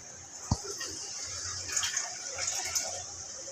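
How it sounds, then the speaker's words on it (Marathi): Water poured into a kadai that holds ghee and sugar, the start of a syrup for Mysore pak; a soft, steady splash and hiss follows one sharp knock near the start, with no talk. "थोडंसं पाणी घालून"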